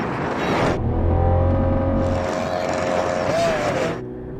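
Drag race between a Ferrari 488 Pista, a Lamborghini Aventador SV and a 911 Turbo S, loud roaring engines accelerating hard with a rising whine, dropping off near the end.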